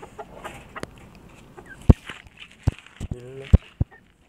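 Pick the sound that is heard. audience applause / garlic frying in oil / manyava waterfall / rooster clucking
rooster clucking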